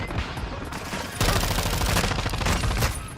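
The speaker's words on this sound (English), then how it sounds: "I don't care if that helo shoots me." Dense rapid gunfire from a helicopter in a shooter video game, a near continuous fusillade that grows louder and heavier partway through with no speech over it.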